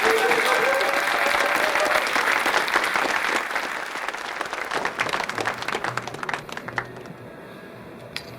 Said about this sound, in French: je vous demande d'applaudir Guilhem sur Ensemble.